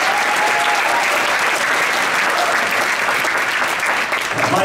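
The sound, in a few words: applause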